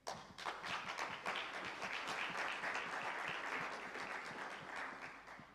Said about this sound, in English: we should give a round of applause to the organizers and all the presidents